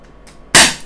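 A Crosman SNR357 full-metal CO2 revolver firing a BB, heard as one sharp, loud, close pop with a quick decay after a brief quiet moment.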